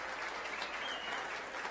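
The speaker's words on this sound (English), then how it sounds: "let's give a great big Spirit of Otterbein round of applause for all our performers here tonight" An evening audience gives steady applause for performers, a faint, even wash of clapping from a distance, with no voices standing out.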